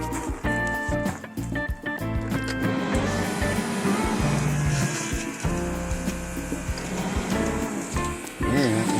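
A Ditch Witch RT45 trencher's engine runs steadily nearby with a loud, continuous mechanical rumble and some clattering on top. No one speaks.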